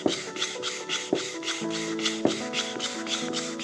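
Sandpaper rubbed by hand over a wooden base for an amplifier kit, long even rasping strokes repeating in a steady rhythm with soft knocks at each turn, close and without talk.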